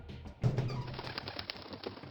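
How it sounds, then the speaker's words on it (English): Birds flap their wings in a sudden burst in the Corpse Party: Blood Drive video game, loud at first and then settling into a flurry of fluttering beats. "What? Birds!"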